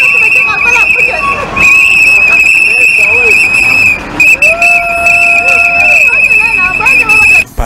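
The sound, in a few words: whistle blowing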